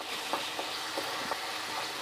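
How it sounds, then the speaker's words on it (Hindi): Dry spices frying with tomatoes for chicken bukhara gravy make a continuous close sizzle, with soft stirring taps at a loose, even rhythm. "अब इन सबको हम जो है अच्छे से भूनेंगे टमाटर के साथ"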